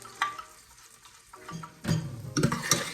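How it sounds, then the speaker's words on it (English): Seasonings tossed into hot oil hiss and sizzle loudly, with stirring clatter against the pot that grows busier toward the end, near and without any voice. "Okay, so my oil is hot. I'm just gonna add in all of these seasonings."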